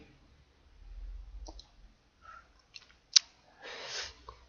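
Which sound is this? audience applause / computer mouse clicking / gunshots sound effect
computer mouse clicking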